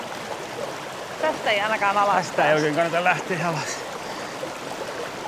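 A clear blue mountain river flows below rocky cliffs in Japan, a steady, broad rush of water heard throughout. Someone talks over it for a few seconds.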